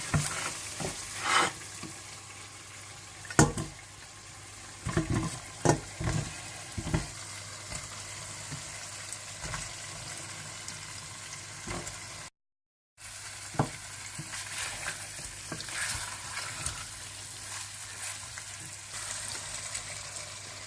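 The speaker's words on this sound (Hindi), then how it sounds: "अब इसको अच्छी तरह से फिर भून लें कि ये अपना घी छोड़ दे मसाला।" Kofta frying in ghee-rich masala in a pan, a steady close sizzle with intermittent stirring clatters and scrapes, briefly cutting out midway before resuming.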